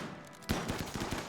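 Chain shotguns fire during a raid in the colony-survival game Rimworld, a sudden blast followed by a rapid string of quieter repeating shots.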